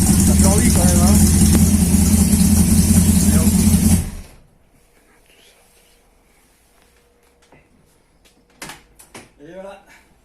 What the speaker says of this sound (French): je crois qu'elle ronfle bien cette petite voiture